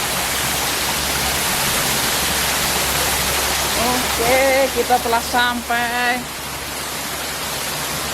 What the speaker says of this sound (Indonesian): Inilah air terjun di Jepang, walaupun pendek tapi lumayan